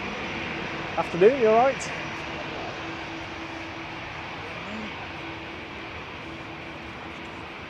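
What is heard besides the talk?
TUI Boeing 787 Dreamliner arriving from Burgas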